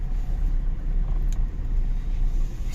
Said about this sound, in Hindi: चलो यहाँ गाड़ी पार्क करते हैं और चलते हैं।